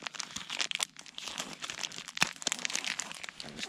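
Rough crinkling, tearing and crunching at close range as food is cut open at a bushcraft camp in the UK, with busy irregular texture throughout and no talk.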